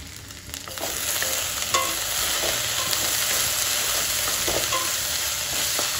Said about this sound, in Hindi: मेरी दाल तैयार हो चुकी है, भिंडी की सब्जी मैंने छौंकी है